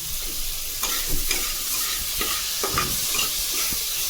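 Slit green chillies sizzle in a pabda fish curry with brinjal while a spoon stirs them, producing close scraping and clattering strokes over a continuous frying hiss.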